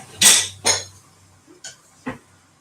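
Big plates being handled in a kitchen during a pancake-day cooking class, two sharp bright clinks followed by a few lighter knocks and taps, close and distinct.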